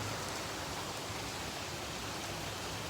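Heavy rain falling outside at night, a dense, steady hiss that stays even and loud throughout with no breaks or voices.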